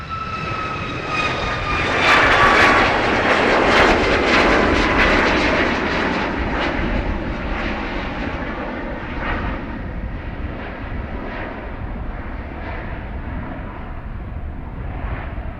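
Airliner departing Dublin Airport, a loud roaring jet engine rumble that swells early and then slowly fades as it climbs away, heard from a spotting position with no talk.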